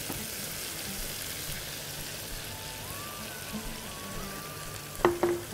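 Tomato juice poured into a hot frying pan for herring in tomato sauce, giving a steady close sizzle and bubbling with faint kitchen clatter near the end.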